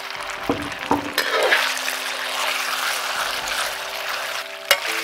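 Meat for spicy cold noodles hits a smoking-hot oiled wok with a sharp clatter, then a sustained, hissing sizzle as it is stir-fried, with a faint steady hum behind.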